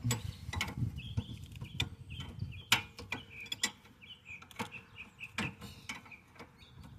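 A ratchet works loose a 19mm rear brake caliper bracket bolt on a 2009 Nissan Maxima, giving quick irregular clicks and metallic ticks close by with faint background noise and no speech.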